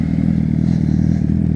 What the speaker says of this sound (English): It looks like a meeting of motorbikes.